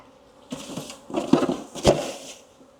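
Honey bees from a mated queen nuc being shaken into a full-size hive, a brief low buzz under knocks and rustling from frame handling, close and fairly faint, with no voices.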